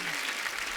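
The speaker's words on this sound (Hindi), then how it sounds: "एक बार जोरदार ताली हो जाए।" Studio audience of a comedy talk show breaks into brief, dense applause, a short burst of clapping.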